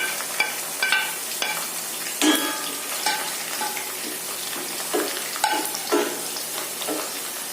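Garlic going into hot oil for a dates pickle, with a steady close sizzle and spatter under several sharper stirring scrapes and clinks, and no talking.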